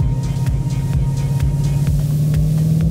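A 2017 Ford Mustang GT with a cat-back exhaust and an X-pipe drones with a steady, muffled low rumble heard from inside the cabin, loud and continuous, with no talking.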